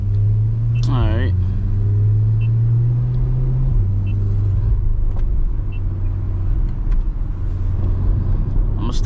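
A C8 Corvette in sport mode gives a steady, loud engine rumble from inside the cabin, its deep note stepping down in pitch partway through, with a brief rising whine early on and no talking over it.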